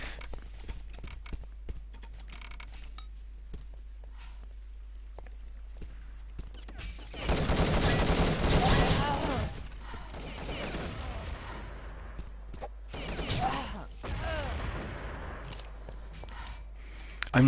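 Gunfire in the multiplayer shooter Urban Terror during a competitive tournament semi-final, with bursts of rapid shots clustered mid-clip and a few shorter volleys later, alongside faint mechanical clicks.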